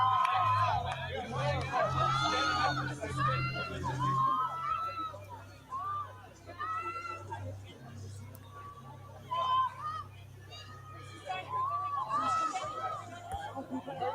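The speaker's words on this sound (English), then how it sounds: "Yeah, we need this cheering." Crowd noise at the Top Gun Maverick London premiere, a busy mix of cheers, shouts and chatter that swells and dips throughout, with voices close by over a steady low background rumble.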